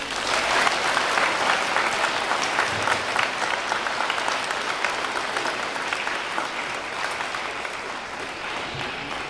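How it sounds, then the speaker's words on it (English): A large crowd at a Veterans Day ceremony applauds in a long, even burst of dense clapping that holds at a steady level throughout. "Can we get another round of applause for him?"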